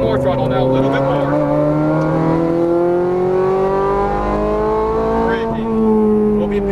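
A Ferrari 430 Scuderia pulls hard on a Las Vegas racetrack, its engine note climbing smoothly and loudly from up close, with a short lift near the end as a coach speaks throughout.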